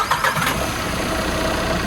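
A Tata Intra V50 pickup's 4-cylinder 1.5 litre DI turbo diesel engine turns over and runs, a dense, steady mechanical rumble heard close without talk.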